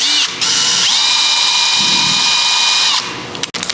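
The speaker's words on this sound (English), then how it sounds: "I'm going to start off by drilling all my necessary holes." A power drill with a 3/16 inch bit whines steadily at high speed for a few seconds drilling a pilot hole, loud and close, then winds down with a brief clatter.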